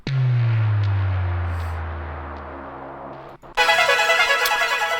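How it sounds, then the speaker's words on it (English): A deep sub-bass tone drops sharply in pitch and slowly fades over about three seconds, then a bright pulsing synth pattern cuts in. "We've also got this sub drop, which is a transitional thing."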